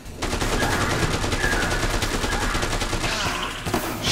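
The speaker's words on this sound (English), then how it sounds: "I'm gonna pull my gun out here." Rapid, sustained gunfire in the Dead Rising 2 video game rattles on as a dense burst of repeated shots for a few seconds, fairly loud, with no talking.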